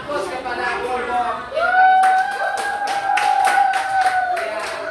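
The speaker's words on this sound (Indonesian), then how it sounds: "kita berikan aplaus kepada kelompok" A classroom group claps for classmates who are presenting, a short burst of applause that begins partway through and lasts a few seconds, with a voice and a steady tone running under it.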